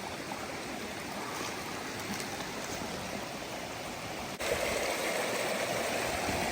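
Low water in a shallow creek bed on a forest hike flows in a steady, even rush and trickle, close by and continuous with no voices.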